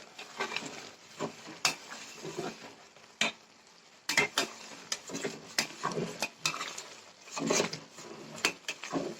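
Ghee being stirred in a pot as it cooks from milk at home, with scraping spoon strokes against metal coming in irregular bursts over a soft continuous simmer and sizzle, close and moderately loud, with no talking.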